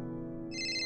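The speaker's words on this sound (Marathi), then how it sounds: "फोन आला." A phone ringtone chimes with sustained electronic tones, and a brighter, higher melody joins partway through, with no talk over it.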